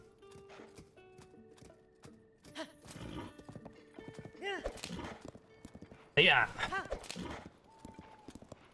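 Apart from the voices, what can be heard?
horse hooves clip-clopping in Zelda video game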